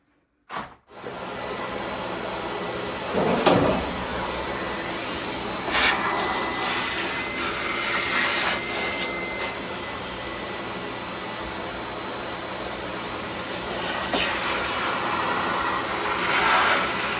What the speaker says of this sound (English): I'm going to finish cleaning this up with the vacuum.